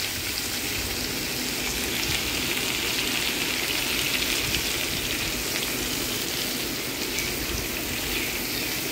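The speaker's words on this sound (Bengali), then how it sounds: "এবার একটু নেড়ে নিলাম।" Turmeric and salt being stirred in a hot frying pan with oil give a continuous, even sizzle and hiss, close and steady throughout with no speech.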